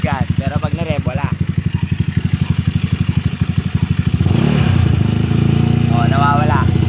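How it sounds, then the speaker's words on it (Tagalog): A motorcycle idles with a grinding, scraping noise from its side, then revs up sharply near the end and the scrape drops away under the steady engine roar; voices talk briefly over the idle. "Tumutunog, maingay yung bang gumagasgas, pero pag na-rev, wala."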